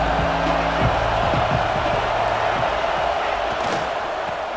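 A crowd at a college football stadium roars during the Texas vs Notre Dame game, a broad steady wash of cheering from all around.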